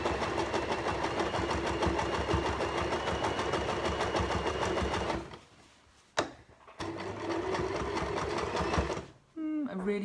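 A sewing machine stitches circles of fabric for reusable cleansing pads, running in a steady, rapid close-up whir that cuts out briefly twice, then restarts, with a short voice near the end.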